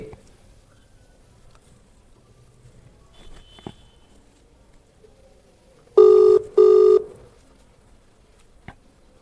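A telephone rings twice in two short, loud, evenly spaced bursts over a quiet room with faint rustling, the call placed as a prank.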